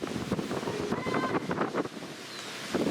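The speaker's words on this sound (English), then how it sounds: "Them winds are howling today at the hospital ball field" Strong wind buffets the microphone at a waterside hospital ball field during a youth baseball game, a steady rushing roar with gusts swelling and easing throughout.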